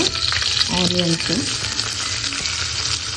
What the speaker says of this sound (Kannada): ಆನಿಯನ್ಸ್ ಹಾಕೊಂಡಾದ್ಮೇಲೆ ಸ್ವಲ್ಪ ಮೀಡಿಯಮ್ ಫ್ಲೇಮಲ್ಲಿ ಫ್ರೈ ಮಾಡ್ಕೊಳ್ಬೇಕು